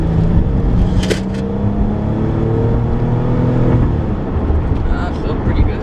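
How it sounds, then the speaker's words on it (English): A car engine revs under a little throttle, a steady low drone with rising harmonic sweeps, the kind of check meant to make an intermittent fault act up, heard up close with brief background noises. "For a little throttle here."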